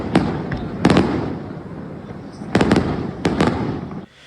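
Fireworks closing the Sferracavallo festival in Palermo, several sharp bangs in quick pairs and clusters over a steady crowd-and-crackle background, fairly loud and outdoors.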